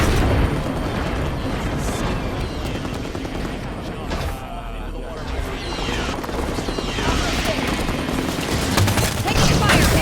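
Dense, continuous gunfire and explosions in the Halo 5 video game, loud rapid bursts layered with booms and game voices throughout.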